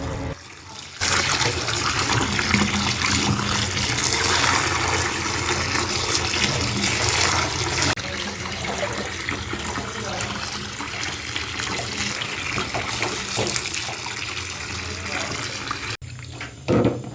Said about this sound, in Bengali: এখন এই টমেটোগুলোকে খুব ভালোভাবে ধুয়ে নিচ্ছি।